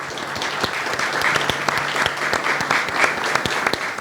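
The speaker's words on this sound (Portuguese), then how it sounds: "uma salva de palmas para Ruth Guimarães" Steady audience applause honoring author Ruth Guimarães at a literary festival in Pindamonhangaba, a dense run of many hands clapping at even loudness for about four seconds, with no voices over it.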